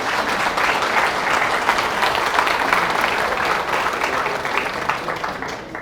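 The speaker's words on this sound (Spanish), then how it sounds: "Den un aplauso al Señor por su fidelidad y su bondad." A church congregation applauds during a Spanish-language sermon, a dense, steady wash of many hands clapping at once. It stays loud and even for the whole stretch, with no talking over it.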